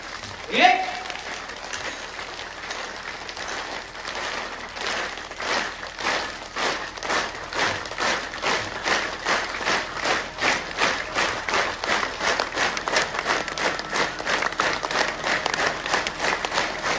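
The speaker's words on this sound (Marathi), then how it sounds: "एक साथ टाळी वाजली पाहिजे." An audience at a devotional kirtan-bhajan memorial gathering claps in unison, starting ragged and settling into a steady, fast rhythmic beat that grows louder, with voices heard faintly beneath it.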